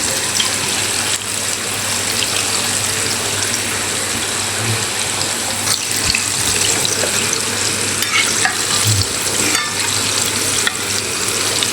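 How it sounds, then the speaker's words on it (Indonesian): A dense, continuous crackling sizzle of chicken pieces frying in hot oil over a stove's maximum flame, loud and close, with occasional pops and stirring clinks. "lalu kita goreng."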